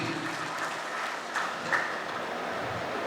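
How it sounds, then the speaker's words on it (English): An audience at a Rotary club installation ceremony claps steadily and fairly loudly in an indoor hall, a dense, continuous patter lasting the whole few seconds with no one speaking. "Applause to Rotarian Rohinath P."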